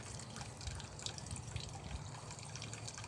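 Cold water runs steadily from an outdoor tap beside a house, a continuous close trickle and splash with no voices.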